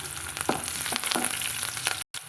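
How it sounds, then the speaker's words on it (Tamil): Shallots and curry leaves sautéing in oil for a traditional brinjal kuzhambu give a steady close sizzle with a few scraping stirs, then a brief cut to silence before the frying resumes. "சின்ன வெங்காயம் சேர்த்திட்டு கருவேப்பிலையில் சேர்த்துக்கலாங்க இதை நல்லா வதக்கி விட்டுக்கலாங்க"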